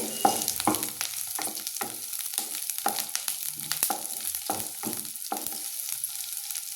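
Onions frying in a pan for North Karnataka-style junuka, a continuous crackling sizzle broken by a dozen or so sharp spatula scrapes at an irregular rhythm, close and clear with no talking.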